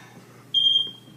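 A smoke detector gives a single short high-pitched beep, clear and fairly close, over a quiet room hum.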